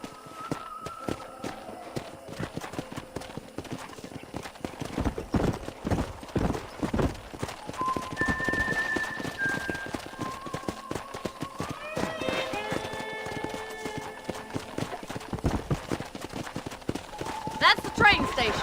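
Horse hooves clip-clopping in Red Dead Redemption, a rhythmic walking gait near a corral and train station, with people talking and tonal game sounds over the steady hoofbeats.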